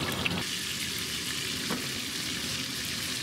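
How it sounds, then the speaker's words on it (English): Pork chops frying in very hot fat, a dense, loud sizzle with fine crackling and popping running continuously, close up with no voice. "The fat starts popping."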